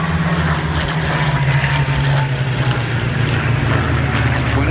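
A Messerschmitt Bf 109G's piston engine drones steadily at an air show, a loud, continuous propeller roar with a low, even hum and no talk over it.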